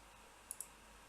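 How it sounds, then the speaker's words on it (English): Two quick, sharp computer mouse clicks sound close together midway through, crisp and fairly faint over a quiet, steady background hiss. "You hear the voice and mouse clicks now."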